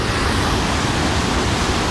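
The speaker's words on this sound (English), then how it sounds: "Obviously the waterfall's right behind me here." Steady, loud rush of the waterfall at Gardeners Falls near Maleny in the Sunshine Coast hinterland, a dense continuous roar with no breaks.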